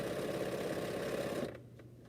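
A sewing machine chain-piecing quilt pieces hums in a steady, close, rapid run of stitching, then stops abruptly and leaves a quieter mechanical drone.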